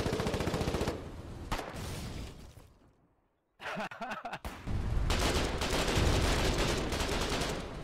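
Foxhole video game gunfire erupts in loud rapid bursts, drops to near silence, then resumes as sustained fire, while a voice laughs briefly.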